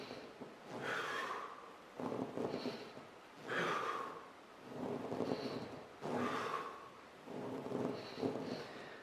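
Repeated forceful exhalations during an abdominal exercise with a gym ball, about five breathy puffs in a slow, regular rhythm, close and fairly quiet, with no talking.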